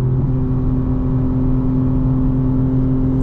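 A 2025 BMW M4 Competition xDrive engine holds a steady, dense growl from inside the cabin, loud and continuous with no breaks or talk.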